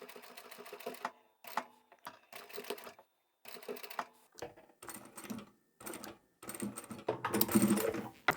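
A sewing machine stitches zipper tape in short, close bursts of rapid mechanical clatter, stopping and starting about eight times, with a longer, louder run at the end.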